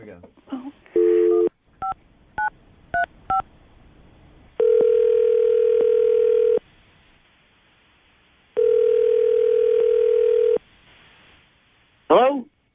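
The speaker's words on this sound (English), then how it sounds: "I'm going to dial Kenny's phone number right now" A phone number is dialed as a quick series of touch-tone beeps, then two long electronic rings with a pause between, and a brief sound as the call connects.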